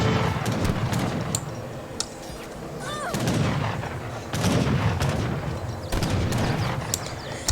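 Repeated loud gunfire and artillery-like booms from the Age of Empires 3 real-time strategy game, with an Ottoman army in battle, sharp shots recurring every second or so alongside clattering unit sounds, with no talk.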